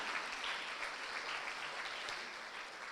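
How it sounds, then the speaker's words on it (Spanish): Soft, steady applause from a church congregation, a continuous wash of many hands clapping at a distance, with no voices standing out. "Démosle un fuerte aplauso al Señor."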